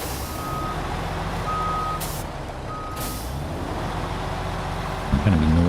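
A truck turning around with an empty trailer in SnowRunner hard mode gives a low steady engine rumble under spaced electronic reversing beeps, then a sharp hiss of air brakes and a deeper engine surge near the end.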